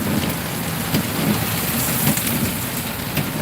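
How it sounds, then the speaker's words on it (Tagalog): Heavy rain pours down steadily in a dense, hissing roar, loud and close, with no voices, with flooding starting. "Grabe ulan, no?"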